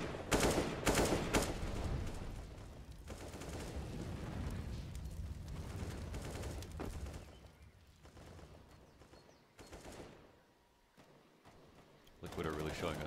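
Bursts of SMG gunfire from a Counter-Strike esports match on the Inferno map cluster at the start and end, fairly faint under a busy mix of game sounds and a commentator's voice.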